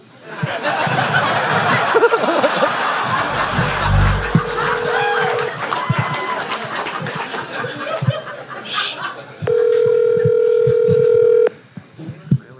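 Telephone ringback tone over speakerphone in a busy room, a steady repeating tone near the end that sits among chatter and laughter from several people talking.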